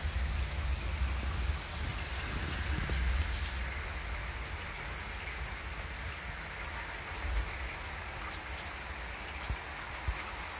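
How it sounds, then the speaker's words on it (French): Heavy summer rain in the Rhône-Alpes region, a steady, broadband hiss of downpour hitting surfaces, evenly loud and continuous, with a few sharper drips standing out and no talking. "Voilà, donc là c'est plus que de la pluie actuellement. De la bonne pluie."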